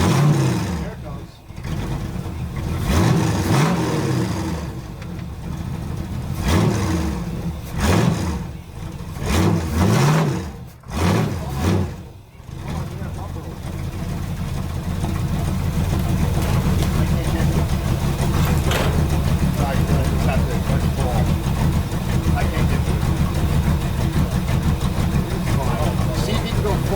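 A 1973 Chevy Camaro with a split bumper, left sitting for at least ten years, cranks and catches, then settles into a steady, loud idle that runs alone for the second half, with talk over the sputtering start.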